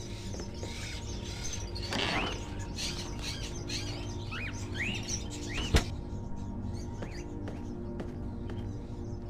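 Caged crows in the game Fahrenheit: Indigo Prophecy give repeated short calls and chirps over a steady indoor hum, moderately close and fairly even throughout.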